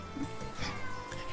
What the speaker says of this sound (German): 2 Miauen, 3 Miauen, 4 Miauen.